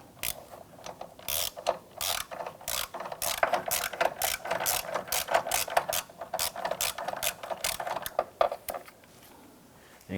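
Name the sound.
13mm socket ratchet loosening car battery hold-down clamp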